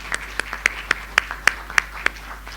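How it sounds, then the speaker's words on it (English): Sparse applause for panelists at a forum, heard as about nine distinct, evenly spaced claps in a slow rhythm, close and fairly crisp over a low steady hum. "let us give them an applause"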